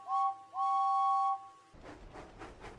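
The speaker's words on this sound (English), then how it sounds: "He blew his whistle to signal his driver." James, a steam engine, blows his whistle twice, a short toot and then a longer, steady two-tone blast, before a chuffing, hissing engine sound follows.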